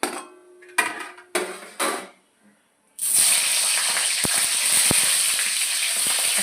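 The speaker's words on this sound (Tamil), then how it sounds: "தக்காளி போட்டாச்சு. அதை நல்லா நீங்கள் எண்ணெயில் கொஞ்சம் வதக்கி விடணும்." Tomatoes drop into hot oil with dried red chillies and garlic for idli kara chutney, setting off a sudden loud, steady sizzle after a few short clatters and pauses, the frying hiss continuing close and strong to the end.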